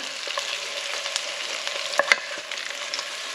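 Zucchini and squash fry in garlic butter in a pan, a steady close sizzle and crackle with a couple of sharper pops midway.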